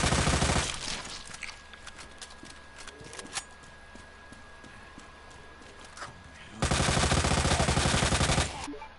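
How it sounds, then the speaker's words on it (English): Bursts of rapid automatic gunfire in Resident Evil 2 with infinite ammo, loud and sustained at the start and end, with scattered shots and a faint tone in between. "I can't hear Leon over this gunfire"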